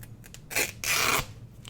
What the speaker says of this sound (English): Let's go ahead and trim a little of this.